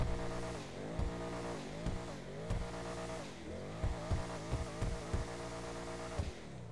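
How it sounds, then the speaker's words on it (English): A Gallivanter Baller ST-D SUV engine in GTA Online revs repeatedly, with an automatic gearbox. The harmonic engine tone climbs and falls in repeated bursts, with loud blips punctuating a steady aggressive growl and no talk. "let's go ahead and give it some gas and do that sound test"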